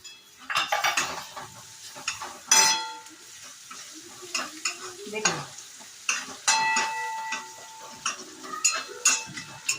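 Coriander-garlic paste and chutney frying in a pan, with soft sizzling under repeated scraping and clinking of a spoon against the metal, stirred in irregular bursts at close range.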